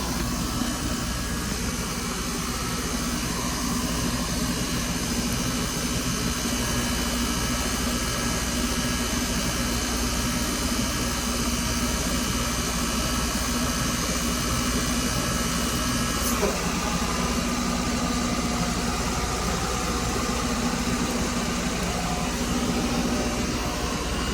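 A Rheem unit runs in air conditioner mode, a steady broadband whir with a constant low hum and tonal drone that holds evenly throughout, with one brief click partway through.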